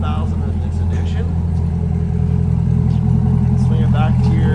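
A 2022 Corvette C8.R edition 3LT coupe with a FabSpeed exhaust idles in a deep, steady burble close by, while a person talks over it.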